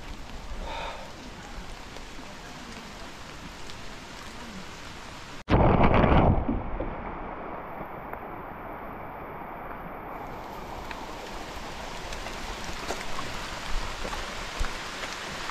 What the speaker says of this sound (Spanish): El día de hoy la lluvia nos está azotando nuevamente.